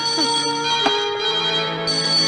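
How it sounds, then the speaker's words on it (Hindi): A telephone rings in a police officer's station in a Hindi-dubbed South Indian action film, a steady electronic ring that carries on almost without a break, close and fairly loud. "सर फोन की घंटी।"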